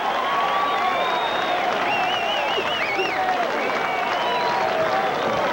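A baseball crowd at a 1986 Moncton game roars, claps and whistles with rising, warbling whistles over a dense, sustained wall of cheering.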